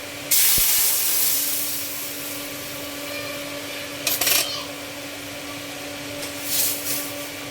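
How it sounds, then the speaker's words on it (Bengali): Dal poured into a hot tempering of oil and spices, giving a loud burst of sizzling hiss that settles into a steady frying crackle with a few brief flare-ups. "ডাল বাগার দিতেছি। ডালটা এখন ঢেলে নিব।"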